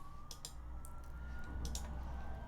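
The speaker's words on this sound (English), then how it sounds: "the sounds of the sirens" Distant emergency siren with a slowly rising wail, faint under steady background noise, with a few short clicks and taps near the listener.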